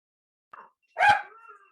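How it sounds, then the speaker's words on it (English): A dog in a New York City studio apartment gives a short, soft yip, then one sharp, close bark that trails off, with nothing else audible. "that was my dog."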